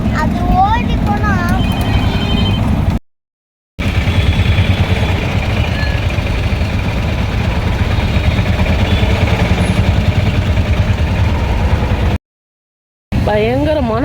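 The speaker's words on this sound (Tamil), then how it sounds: "பயங்கரமான டிராஃபிக்." Heavy road traffic near Charminar in Hyderabad sends out a loud, steady roar of engines and idling vehicles, with a couple of brief cutouts and faint horn-like warbles at the start and end.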